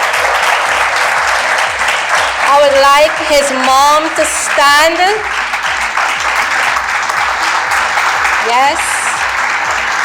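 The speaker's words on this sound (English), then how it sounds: "I think you deserve a bigger round of applause." Steady, dense applause from a crowd at a secondary school graduation ceremony carries through the whole passage, while someone speaks over it into a microphone.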